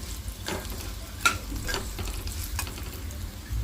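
Fried bitter gourd with turmeric is stirred in a pan, giving a few soft scraping strokes over a low, steady frying hiss, close and quiet.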